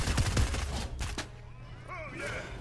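Rapid bursts of gunfire in Fortnite during a lightsabers-only challenge, a fast fusillade up front that thins out, with a voice talking over the shots.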